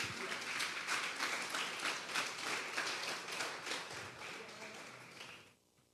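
A church congregation claps together during an evening Bible service, dense steady applause that carries on for several seconds before tapering off and ending abruptly.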